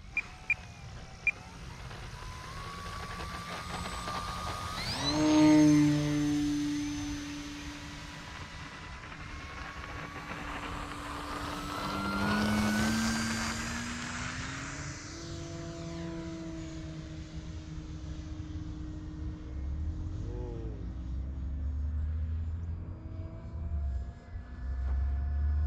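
An E-flite Night Timber X radio-controlled airplane takes off and flies, its small electric motor whining up and down in pitch as it climbs, passes nearby and circles farther off, steady and moderately loud throughout.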